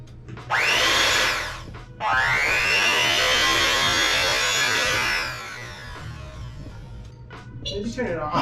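An electric mixer whirs loudly in a kitchen during baking, running in one short burst and then a longer steady run before stopping, with voices talking after it stops.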